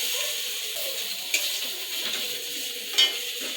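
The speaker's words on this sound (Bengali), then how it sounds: "আমার এদিকে বেগুন ভাজা হয়ে গেছে" Eggplant frying in a pan gives a low, steady sizzle with a couple of sharp clinks of a utensil against the pan.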